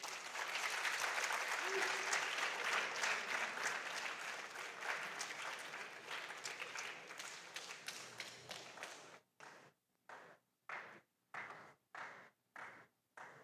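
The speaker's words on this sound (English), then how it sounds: "Are your hands tired? Keep clapping." Audience applause at a school science and maths quiz quarter final, a thick roar of clapping for several seconds that turns into about six loud, rhythmic unison claps.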